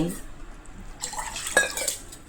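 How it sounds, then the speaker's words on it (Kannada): Water poured into a metal cooking pot while making appe huli, a short splashing pour with light clinks of pot and utensil, close and fairly quiet. "ಮೊದಲು ಪಾತ್ರೆಗೆ 2 ಲೋಟ ನೀರು ಹಾಕಿ"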